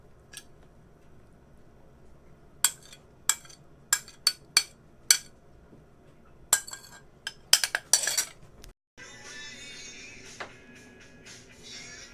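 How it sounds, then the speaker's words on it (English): A utensil mixes milk into egg in a small kitchen, with a string of sharp clinks against the bowl, a quick flurry of taps, then a steadier whisking swirl at close range. "Now I just need to get some milk and mix it in with the egg, and mix this in."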